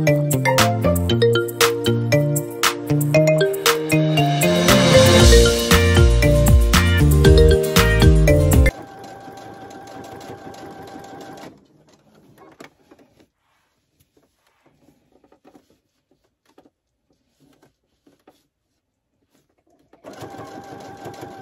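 A sewing machine stitches and back stitches a hooded towel, a loud, fast, close whirring run that drops to a quieter hum, stops for several seconds, then starts running again.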